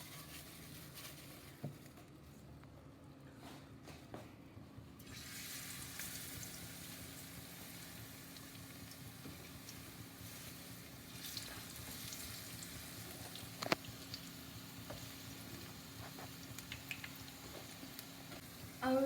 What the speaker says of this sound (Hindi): अब हम इसे फ्राई में डालेंगे।